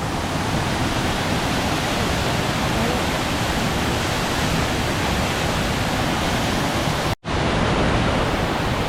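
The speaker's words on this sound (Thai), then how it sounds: "นี่แหละครับน้ำตกเปยสวรรค์" Soi Sawan waterfall in Pha Taem National Park roars as a steady, dense rush of falling water, loud and unbroken apart from one brief cut near the end.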